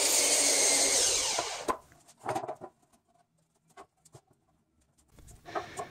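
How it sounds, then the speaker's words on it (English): A saw cuts through a 2x6 wooden board with a loud, steady buzzing whine that stops sharply. Scattered knocks and clatter of handling the lumber follow, and a brief buzz returns at the end. "I'm going to take a 2x6 and cut it to the same length as the 2x4s."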